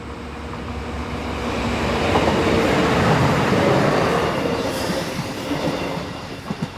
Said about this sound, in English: The train is seen on the sweeping curve just to the south of Tüssling station